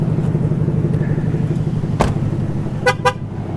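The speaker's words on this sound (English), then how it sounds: "Honked at me because my keys are in the pocket," Two short car horn toots from a 2023 Ford Mustang GT Premium, sounded in quick succession near the end over a steady low engine idle, fairly close and clear.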